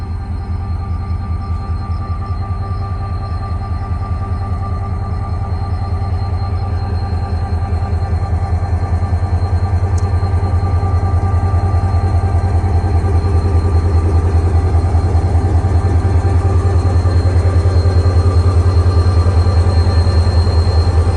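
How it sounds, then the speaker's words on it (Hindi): An HGMU diesel locomotive hauling the Marvi Passenger train in the Thar Desert roars steadily at close range, a deep, throbbing idle that holds unbroken and swells slightly louder over about twenty seconds, with no talking. "इंजन तो गरज रहा है।"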